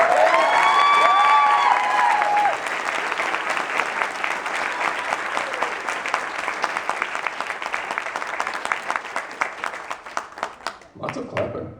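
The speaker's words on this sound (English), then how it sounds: "Lots of clapping." Wedding guests clap and cheer during a best man toast, opening with loud whoops and whistles over applause, then sustained clapping that gradually thins into scattered claps before a voice resumes.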